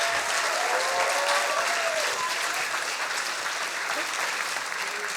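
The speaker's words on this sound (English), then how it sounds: "Please, big applause" Sustained audience applause at a Berlin science slam evening, dense steady clapping from a large crowd filling the room throughout, with a little cheering mixed in.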